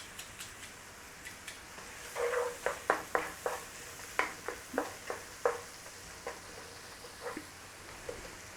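Onions sautéing in a pan for chicken liver pâté, crackling with a steady run of sharp sizzling pops and spatter bursts, close and fairly quiet, no talking.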